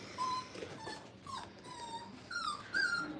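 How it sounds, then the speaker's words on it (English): Five-week-old puppies whimper and yip softly in short high-pitched bursts, with light scuffling as they play with new toys in a crate nearby. "Sitting there letting the puppies play."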